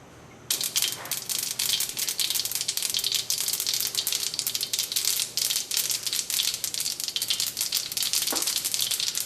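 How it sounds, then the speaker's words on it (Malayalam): Mustard seeds spluttering in hot coconut oil in a pan for a Kerala ginger curry: dense, rapid crackling pops that start abruptly and keep going loud and close, alone without talk. "എണ്ണ നന്നായിട്ട് ചൂടായിട്ട് ഇതിലേക്ക് കടുകിട്ട് പൊട്ടിക്കാം."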